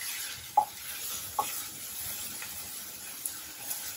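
Onions sizzle quietly in a pan with a pinch of salt, stirred toward light brown; a soft steady hiss sits under a few sharp spoon scrapes and clicks, with no talking.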